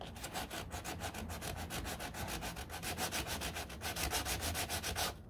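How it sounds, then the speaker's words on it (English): Rapid, rhythmic hand sanding strokes scrape back and forth over body glaze on a 1969 Corvette C3 door, steady, close up and fairly loud, with no talking. "look how fast it's just sanding down"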